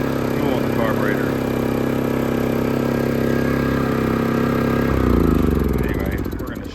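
A WEN 3600 portable generator engine runs at a steady close hum with a constant drone, its tone shifting and roughening briefly near the end, beside a 1973 GMC motorhome; a voice talks over it.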